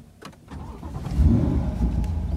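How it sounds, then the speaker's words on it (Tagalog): A Corvette C8 Stingray Z51 starts up close by: a brief cranking whir, then the engine catches and swells into a loud, deep rumble that settles into a steady idle. "And then, start na natin yung kanyang engine."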